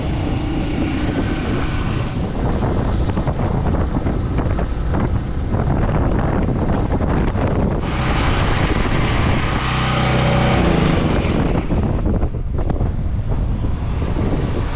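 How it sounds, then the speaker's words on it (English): Strong wind roars steadily into the microphone, loud and blustery throughout with gusty surges and no voices. "Getting way too windy for this."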